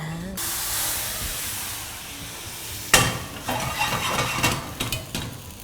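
A steady hiss of steam rises from a hot pan used for cooking eggs, then water hits it with a sharper burst of sizzling and spattering that crackles on.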